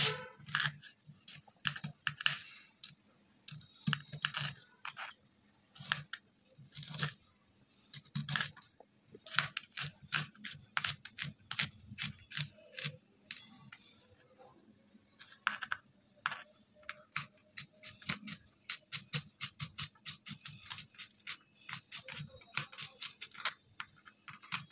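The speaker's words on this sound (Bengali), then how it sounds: "এবার আমি আদাটাকে কেটে নেবো।" A knife finely chops ginger on a cutting board for restaurant-style crispy chilli baby corn, giving quiet, rapid, irregular tapping clicks in short bursts with brief pauses between them.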